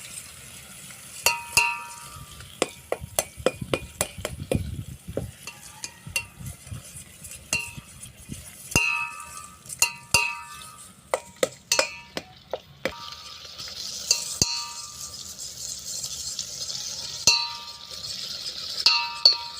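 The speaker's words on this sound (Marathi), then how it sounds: "आता हा मसाला यामध्ये होऊ द्यायचा आहे चांगला। मसाला शिजू द्यायचा तेलामध्ये।" Ground spice paste cooking in oil for a Maharashtrian chicken curry, with faint sizzling broken by frequent sharp clinks and scrapes of a spoon stirring against the pot.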